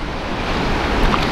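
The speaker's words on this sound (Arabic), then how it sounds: "احنا عارفة ان الصوت مضايقك صوت البحر، بس ده صوت البحر ده." Sea waves at Cleopatra beach in Marsa Matruh roll in as a loud, continuous broadband wash of surf mixed with wind buffeting the microphone, close and steady, with no talking.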